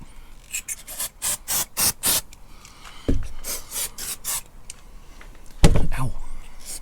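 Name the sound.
silicone spray sprayed on motorhome window rubber seals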